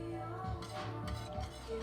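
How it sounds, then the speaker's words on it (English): Grated Parmesan and Romano cheese stirred into a veggie-loaded baked potato casserole, soft utensil scrapes and faint clinks against the dish repeating in a slow rhythm, quiet and close. "As I said, you want to add it slowly and stir."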